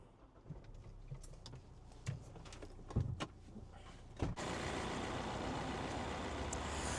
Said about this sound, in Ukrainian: Давайте з вами тепер разом запустимо двигун нашого автомобіля і подивимося, що ж у нас під капотом.